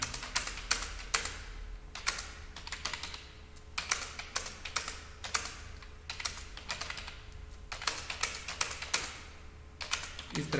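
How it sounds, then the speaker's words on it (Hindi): Marks being entered in Excel on a computer keyboard produce bursts of quick, close keystrokes in irregular clusters with brief pauses between groups, and no talking. "इस तरह करके आपको मार्क्स टाइप कर लेना है।"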